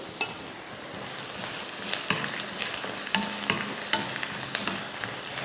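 Onions sizzle and crackle steadily in a hot pan for a wheat rava breakfast dish, with occasional clicks of a spoon stirring, close and continuous with no talking.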